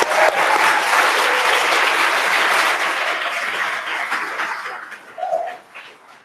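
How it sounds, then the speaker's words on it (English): An audience at a maker educator gathering applauds the presenters, a loud dense burst of clapping that thins and fades out, with a short tonal cry near the end. "Give them a round of applause, please."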